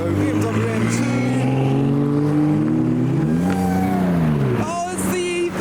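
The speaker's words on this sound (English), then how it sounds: "Here they go, BMW M2." A BMW M2 accelerates out of a car park, its engine note rising and falling steadily under continuous crowd chatter and talking, with a sharper burst of revving near the end.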